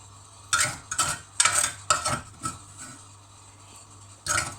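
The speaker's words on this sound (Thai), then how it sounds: "ตำน้ำพริกปลาเค็มจ้าใส่ปลาเค็มลงไปแล้วก็โขกโขกโขก" Salted fish chili paste being pounded in a mortar: a series of sharp, close knocks in an uneven rhythm, about seven strikes over a few seconds with short pauses between them.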